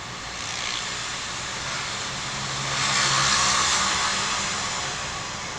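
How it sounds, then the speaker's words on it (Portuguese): A loud motorcycle outside at night, heard from indoors as a continuous roaring engine drone that swells as it passes nearer midway, then eases slightly. "O que faz uma pessoa ter uma moto tão histérica depois das 10h10 da noite?"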